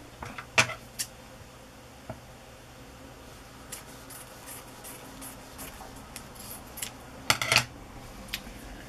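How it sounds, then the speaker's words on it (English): Scissors cutting a handkerchief in half, close and fairly quiet, with a few sharp snips early on and a cluster of crisp cuts near the end over faint room noise. "cut the napkin or cut the handkerchief in half so that I can have both of the edges"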